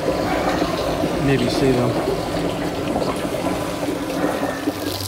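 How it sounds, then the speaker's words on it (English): Rainwater runs steadily into a plastic pickle barrel used as a rain barrel on a homestead garden, a continuous near splashing and trickling flow heard under a voice. "the water won't come up above this ring right here. It will go down into those holes."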